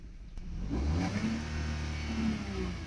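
Toyota Wigo 2022 engine, which has a fault where it loses power while driving, revs up hard to about 4,500 RPM. A loud, steady rising drone holds near and continuous for about three seconds with no talk.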